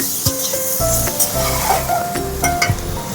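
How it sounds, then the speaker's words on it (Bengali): Steady crackling sizzle of vegetables frying in a pan, with a few light clinks of a utensil stirring, close and fairly loud, no voices. "সবজিটা ভাজা হয়ে গেছে"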